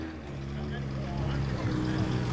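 A 1929 Ford MP special with a big four-cylinder side-valve engine runs at a hillclimb event, its low, steady engine drone rising slightly toward the end, moderately distant and somewhat faint.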